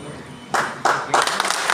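Applause from a crowd at a political felicitation rally in Sangamner, coming in three short bursts of clapping that build into sustained, fairly loud applause.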